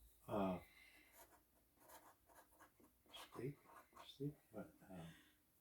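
A marker scratches out a date on masking tape, giving faint, short strokes in quick bursts while a person talks over it nearby.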